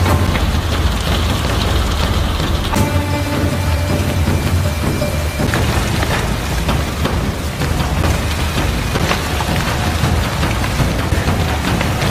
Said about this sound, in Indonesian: Suasana gelapnya malam di tengah hujan deras